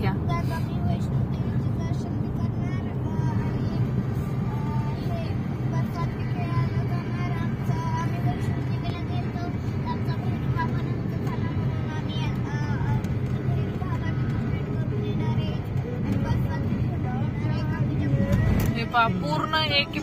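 A car drives through a long mountain tunnel on the Jammu to Patnitop road, and a steady, enclosed engine and road rumble carries on for the whole stretch while people talk inside the vehicle.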